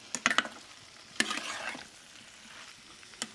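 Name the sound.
stirring spices into fried mango for pickle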